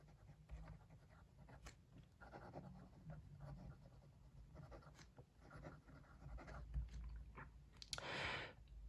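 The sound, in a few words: Wancher fountain pen writing on paper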